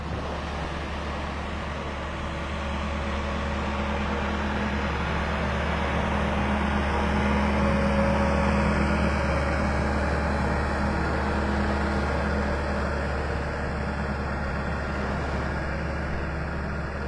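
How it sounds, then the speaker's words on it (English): A beach-grooming tractor smooths the sand at Pelican Bay in North Naples, Florida, giving a continuous low engine drone that swells slightly and eases off again, steady throughout with no voices. "Smoothing off the beach. That must be Pelican Bay's tractor."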